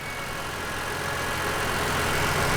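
A 2005 BMW E46 M3 with its S54 six-cylinder engine idles steadily, a low continuous hum with a faint tonal whine, unchanging and fairly quiet throughout, no voices.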